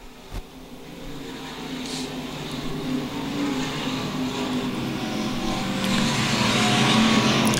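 USRA A and B modified stock cars racing at Lakeside Speedway, a continuous roar of engines that swells steadily louder as the field comes around, with no clear voices.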